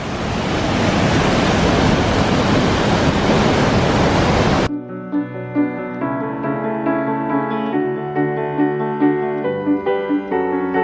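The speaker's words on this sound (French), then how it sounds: "Toutes les cascades là-haut, c'est magnifique" Waterfalls in New Zealand give off a loud, continuous roar of falling water for several seconds before it cuts off abruptly and music takes over.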